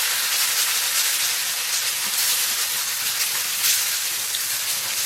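Green vegetables tossed into a hot pan with onion, green chili, bean sprouts and tomato for a vegetarian stir-fried noodle dish, giving a loud, steady broadband sizzle and hiss throughout with no talking.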